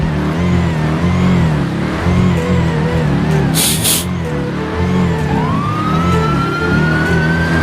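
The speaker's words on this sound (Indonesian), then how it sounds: "Jangan nyalain sirine." Emergency vehicle siren in the video game GTA V roleplay, heard as a loud continuous wail over steady engine and traffic noise, with a rising siren tone near the end.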